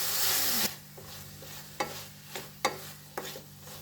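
Peas and cashews cook in a pan for a wedding-style matar kaju mawa curry, with tomatoes added: a soft sizzle opens, then a spoon stirs and scrapes the pan in several distinct knocks.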